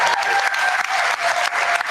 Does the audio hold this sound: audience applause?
yes